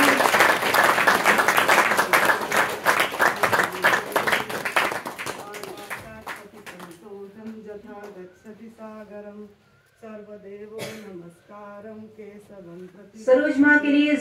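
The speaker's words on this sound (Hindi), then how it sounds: "अखंडामंडलाकार जोरदार ताली है गुरुदेव के लिए" A crowd at a Hindi devotional gathering claps loudly in a dense burst for about six seconds, then the applause fades while someone speaks over the hall, with a brief flurry of claps returning near the end.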